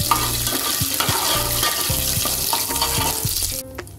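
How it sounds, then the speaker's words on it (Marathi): Whole cloves, peppercorns and bay leaf heat in oil for Moghlai chicken, giving a loud, dense sizzle with quick spoon clinks and scrapes against the pan, cutting off abruptly near the end. "लवंग, मिरी आणि हा तेजपत्ता। मसाले चांगले असे गरम करून घेणार आहोत।"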